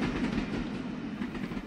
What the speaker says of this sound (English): Here is a train on the main line running on the elevated part of tracks in the central district of Kobe